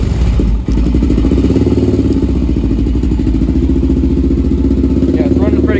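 An 07 Honda 400ex ATV engine with a fresh carburetor idles steadily and loudly up close, a continuous throbbing putter with a brief clunk near the start and a voice talking over it near the end.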